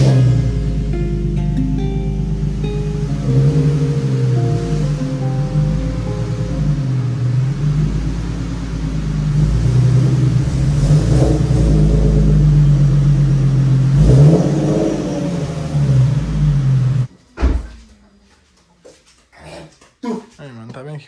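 A car engine rumbles steadily as the car is driven into a home garage to be painted. A dog whimpers and voices come through faintly. The engine cuts off near the end, leaving a few short scattered sounds.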